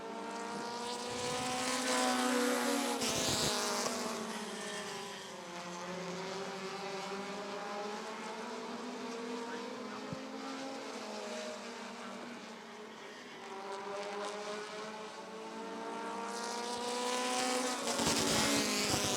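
Short-track race cars roar around Rockford Speedway in an American Short Tracker heat race, a dense, loud, sustained engine drone that swells as the pack passes close by, with wavering pitch from several cars at once.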